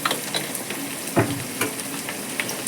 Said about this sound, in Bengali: আগে আদা রসুনও দেবো অল্প জল দিয়ে বাটিটা দিয়ে